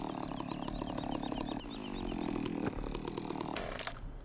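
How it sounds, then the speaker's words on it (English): A chainsaw revs and bites into a tree in Farming Simulator 17, a loud continuous engine whine rising and falling with the cut for a few seconds before trailing off into quiet at the end. "Alright, let's put the chainsaw away."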